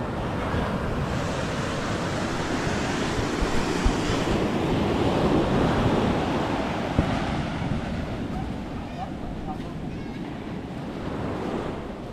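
Sea waves rolling in at night, a steady, dense wash of surf with wind buffeting the microphone, continuous and fairly loud throughout with no talking.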